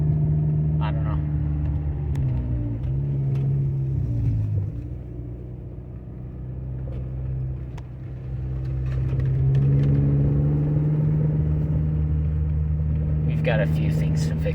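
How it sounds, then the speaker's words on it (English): A car engine with its service engine light on idles rough with a low, uneven rumble that dips and rises, its pitch wavering instead of holding steady. "This car's not running right."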